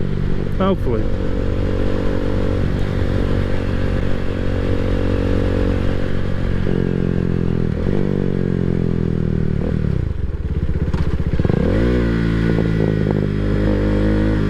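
A motorcycle with a Leo Vince exhaust rumbles steadily up close, with a few sharp crackles and pops as the throttle rolls off, then a brief rise in pitch.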